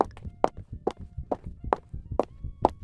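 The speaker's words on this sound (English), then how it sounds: "I heard her footsteps echo against the tile" Footsteps on a tile floor, about seven regular echoing heel strikes at a walking pace, close and clear over a low rumble.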